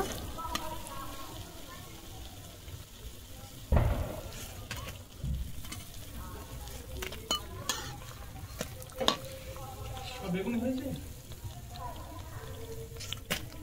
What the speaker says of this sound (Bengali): একইভাবে সব বেগুনি আমি ভেজে নেব।